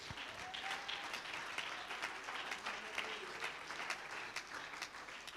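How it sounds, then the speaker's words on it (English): Church congregation claps hands in praise, a continuous wash of many hands applauding at a distance, fairly faint but steady, with a faint voice or tone drifting underneath. "Come on, clap your hands and praise Him."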